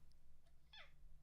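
A house cat gives one short, faint meow over a steady low electrical hum, preceded by a couple of soft clicks.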